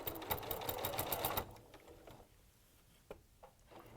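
Sewing machine stitching a hat seam, a fast rattling run of stitches for over a second, then stopping into quiet handling clicks and a faint voice.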